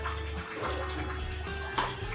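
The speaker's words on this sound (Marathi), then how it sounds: "आपण थोडंसं पाणी टाकणार आहोत" Water pours into a vessel of wheat pulp, a steady splashing trickle at close range, quiet and continuous without talk.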